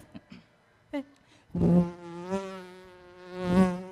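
A voice mimics a buzzing beetle on stage at a Malayalam comedy mimicry show, opening with a few short clicks before breaking into a loud, sustained drone that swells and fades.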